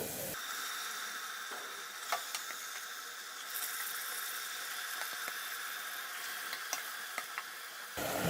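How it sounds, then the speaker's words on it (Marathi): Marinated mutton sautéing over a high flame with onion and ginger-garlic paste, a steady faint sizzle with occasional clinks and scrapes, close and without voices. "आपण यामध्ये मॅरिनेट केलेले मटण घालू।"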